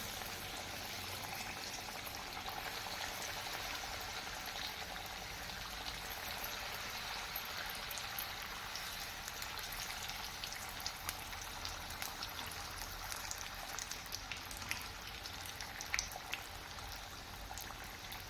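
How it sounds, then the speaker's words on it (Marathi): Veg patti samosas deep-fry in hot oil, a faint, continuous bubbling and soft crackle that stays low and steady, with scattered small pops and no voices. "आता आपण हा समोसे व्यवस्थित तळून घेऊया"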